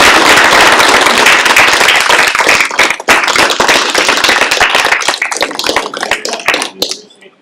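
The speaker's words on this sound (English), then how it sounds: "Give yourselves all a good round of applause" Loud, close applause at a youth apprenticeship signing day, a thick roar of many hands that thins into scattered individual claps and then fades out near the end.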